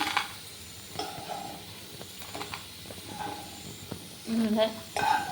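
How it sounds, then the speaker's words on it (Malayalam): Potatoes deep-fried until crisp, for a potato rice dish, being scooped out of a pan of hot oil: a steady sizzle with scraping and stirring, then a louder burst of bubbling and clatter near the end. "പൊട്ടറ്റയൊക്കെ നല്ല വറന്ന് വന്നിട്ടുണ്ട് അപ്പോൾ നമുക്കിത് കോരിയെടുക്കാം"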